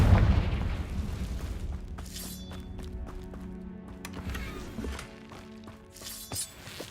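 A Confringo fire spell explodes in Hogwarts Legacy: a low boom opens, then scattered crackling impacts and sharp bursts follow at moderate loudness over a rumbling game backdrop.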